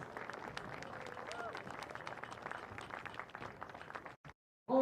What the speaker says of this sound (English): Let's give our senior players a big round of applause.